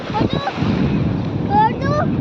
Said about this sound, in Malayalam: വലിയൊരു തിരമാല വരുന്നുണ്ട്.